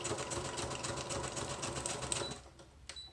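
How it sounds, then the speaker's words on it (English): Sewing machine zigzag stitching along a paper wrap-around pocket in a junk journal, a steady rapid mechanical whir of needle strokes that runs continuously for about two seconds, then stops, followed by a faint click. "I'm going to zigzag like half on, half off, so that I'm not taking up any of the pocket"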